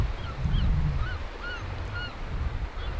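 Seagulls call repeatedly with short, rising squawks along the coastal path near the Giant's Causeway in Northern Ireland, over low wind rumble and outdoor background noise.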